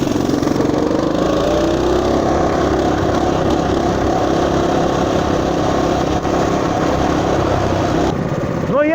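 A Motoland RT200 pocket ATV's small engine runs steadily while riding over gravel, loud and close, with a continuous droning buzz and crunching underneath that holds for the whole stretch and shifts slightly near the end.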